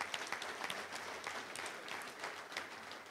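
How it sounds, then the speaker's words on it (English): A luncheon crowd at a touchdown club meeting claps steadily for a woman and her father, dense overlapping applause holding at an even level throughout. "let's give a round of applause for Shelly and her dad"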